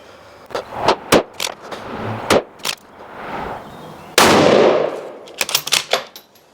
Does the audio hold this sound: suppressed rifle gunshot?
yes